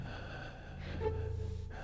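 A person breathing with a sharp gasp and snorting intake, close and quiet over a faint background hum.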